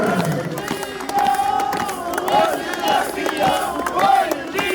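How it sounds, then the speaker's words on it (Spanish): A festival crowd at a Huaylia celebration in Antabamba claps and cheers in a steady, busy wash of sound, with shouting voices and some tonal ringing mixed through the din. "El aplauso fuerte para los mayordomos de Quima Mendoza, Jorge Las Palmas."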